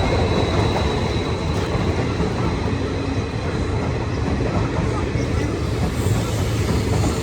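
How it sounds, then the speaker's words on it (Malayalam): A train pulls into a station with a loud, continuous rumble and rattle of rail cars that fills the whole stretch, and voices are faintly present beneath it. "ട്രെയിൻ വരുന്നു"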